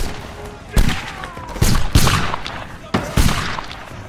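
Musket volleys in a multiplayer Napoleonic-era line battle game crack out as several loud, ragged bursts of massed gunfire a second or so apart, with a voice calling out between the shots.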